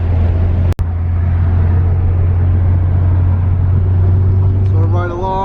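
A steady low Nissan Silvia S15 engine drone from inside the cabin while riding, loud and constant, with a brief click early on and faint voices near the end.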